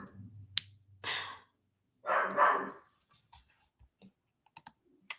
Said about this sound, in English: Oh, my dogs are barking.